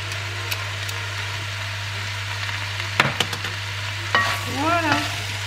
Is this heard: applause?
no